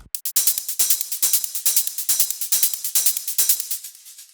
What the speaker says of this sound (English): Hats and claps.